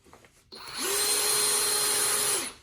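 A Festool TPC 18/4 cordless drill spins up with a rising whine, runs steadily for about two seconds driving into wood, then winds down, loud and close.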